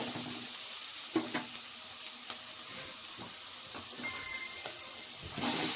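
Vegetables with tomato and coriander fry quietly in a pan, a soft steady sizzle broken by a few light clicks and scrapes of stirring, no voices.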